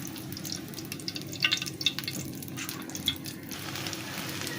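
A flipped egg and flour pancake fries quietly in a pan, a steady low sizzle with occasional small pops and crackles throughout.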